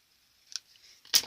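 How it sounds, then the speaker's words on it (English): A pair of scissors trims the uneven edges off a paper gift bag, giving two short, crisp snips close by in a quiet room, the second louder and fuller. "just grab a pair of scissors."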